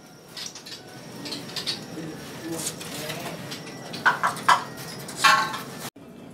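Oriental magpie-robins (kacer), around sixty birds caged together in a bird kiosk, give short bright chirps and whistles in small clusters over a steady background murmur of shop noise.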